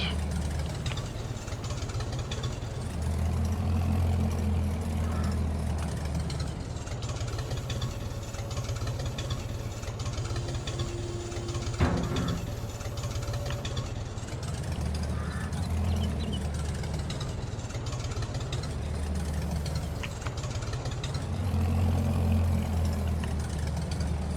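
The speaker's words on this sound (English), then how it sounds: "Pap's old tractor works pretty good for this." An old farm tractor engine runs steadily at idle, a low continuous rumble with a slight periodic swell that carries through the whole stretch. No voices are heard.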